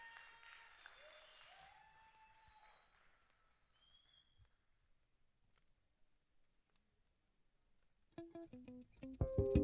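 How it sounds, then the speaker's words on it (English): Audience applause greets a solo singer at a village folk music finals in Trinidad and Tobago, a steady clapping that fades to near silence before instrumental music starts up loudly at the end. "Let's welcome her with a round of applause."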